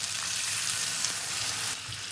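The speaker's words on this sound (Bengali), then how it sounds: "এবার আমি এই যে মশলার বাটি ধুয়ে জল রেখেছি, এটা আমি দিয়ে দেবো" Water from a rinsed spice bowl is poured into koi fish masala frying in oil, setting off a loud, continuous close-up sizzle that eases slightly near the end.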